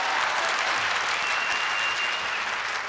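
Studio audience on a Turkish televised singing contest applauds steadily and loudly throughout, a dense continuous wash of clapping with no talk over it.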